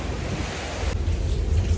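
Steady wind buffets the microphone at the seaside on a rainy day in the Phi Phi Islands, Thailand, with a low, constant roar and rumble of surf beneath it and no talking.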